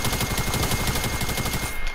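Rapid automatic gunfire from a Fortnite match, a dense string of close, loud shots fired in quick succession with no talking.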